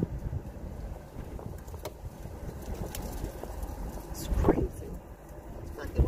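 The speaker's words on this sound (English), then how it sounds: "I don't know if you can hear the wind, but it's crazy." Strong wind gusting past a car window on a snowy day, a continuous rough broadband rush with a louder surge near the end, steady and close to the microphone.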